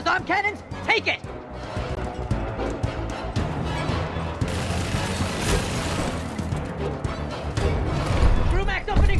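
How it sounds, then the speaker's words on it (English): Heavy gunfire from the Brumak boss's arm cannons in Gears Tactics on insane difficulty: a dense, continuous rattle of shots and booms, loud and sustained, with voices speaking over the barrage. "Brumak's opening fire! He's bringing extra firepower!"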